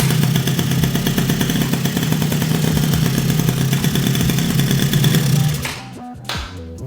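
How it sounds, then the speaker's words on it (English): A small petrol engine swapped into a Power Wheels Ford Ranger ride-on cranks and runs with a loud, steady clattering drone for over five seconds, then cuts out abruptly into near silence with a short sputter. "when we grab the switch, we put it in the run position"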